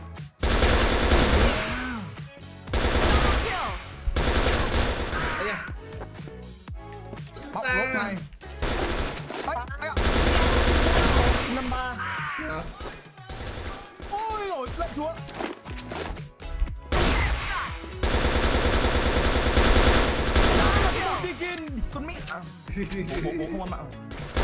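Bursts of automatic gunfire in a shooter video game, long rapid machine-gun volleys broken by short pauses, loud and close, with people talking over the shooting.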